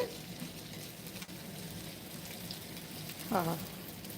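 Gooseberries sautéing in a pan for chutney give a steady, soft sizzle with faint stirring scrapes, close by, and a short voice cuts in near the end.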